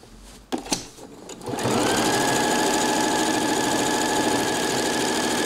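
A sewing machine runs a seam on a cushion: a few taps and a short start, then a loud, continuous rapid stitching drone that carries on steadily to the end.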